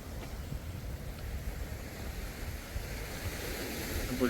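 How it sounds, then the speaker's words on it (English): Surf washing onto the shore along the seafront at Puerto del Carmen, Lanzarote, as a steady, broadband rush of breaking waves under gusty wind noise, fairly faint and continuous with no talk. "is called the Sound of the Sea Waves."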